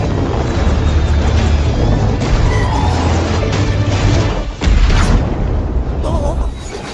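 A helicopter exploding in an action movie, loud booming crash with heavy low rumble, a sharp burst near the end, debris and chaotic effects layered with voices speaking over the soundtrack.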